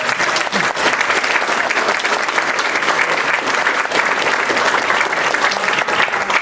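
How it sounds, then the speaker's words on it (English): A dense, steady round of applause from an audience at a congressional candidate forum, loud and sustained, with many hands clapping together throughout. "So a round of applause for our candidates that are out here for us."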